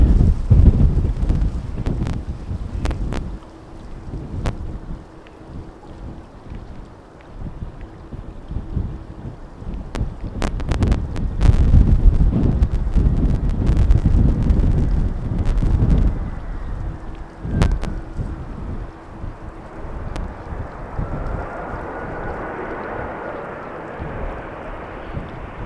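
Strong wind buffets the microphone at Amsterdam Schiphol Airport during runway 18R arrivals, heavy low rumbling gusts surging and easing with sharp crackling bursts, and a faint aircraft engine whine rising toward the end.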